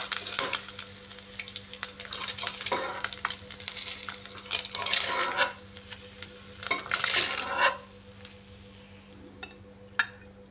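Eggs fried hard in oil sizzle in a pan as they are lifted out, with bursts of crackling and scraping from a utensil, several loud pulses, then quieter frying and a final sharp clink.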